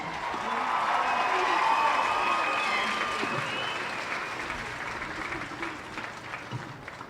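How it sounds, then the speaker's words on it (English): Audience at a 2019 Greeley West High School graduation ceremony applauding honors graduates, a broad, fairly distant wash of clapping from a large crowd that swells, then slowly thins out over several seconds. "Let's give them a round of applause."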